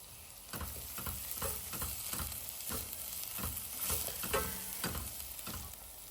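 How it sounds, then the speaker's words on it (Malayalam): Crushed garlic sautéing in a pan for mutton dum biryani, a steady close sizzle with regular scraping stirs every half second or so, no voices. "ആദ്യം വെളുത്തുള്ളി ചേർത്ത് കൊടുത്ത് നന്നായിട്ട് വഴറ്റിയെടുക്കാം"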